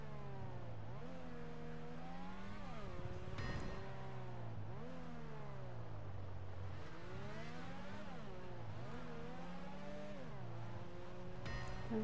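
An engine rises and falls in pitch through repeated acceleration and gear changes while a car drives, heard steadily from inside the vehicle at moderate loudness, with no one speaking.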